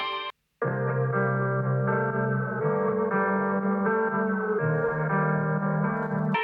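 An Omnisphere guitar sample plays a slow melodic phrase drenched in chorus, echo and distortion effects, the sustained notes swelling and blurring together after a brief silent gap at the start.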